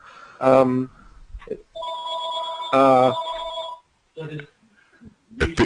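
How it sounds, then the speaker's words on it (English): A telephone rings in a café venue on Cornelia Street in repeated bell-like electronic bursts with pauses between them, loud and close, with some brief vocal sounds around the rings. "Our telephone. Would you mind answering that?"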